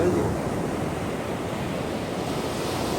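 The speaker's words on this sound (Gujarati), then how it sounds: "ઓહો ભાઈ જો કેવા મોજા" Broad, steady roar of ocean surf with waves washing in, mixed with wind buffeting the microphone; no clear voices.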